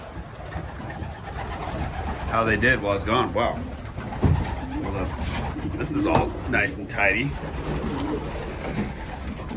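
Racing pigeons coo softly in a few low, throaty bursts inside a breeding loft while a person talks nearby.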